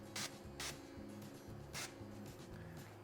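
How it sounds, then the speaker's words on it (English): Kitchen cooking spray is hissed onto a griddle heated to 350 degrees Fahrenheit in short bursts. Three or four quick, close sprays sound over a steady low background hum. "Let's go ahead and spray this with some kitchen spray."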